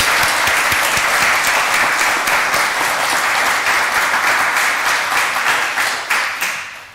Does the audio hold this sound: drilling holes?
no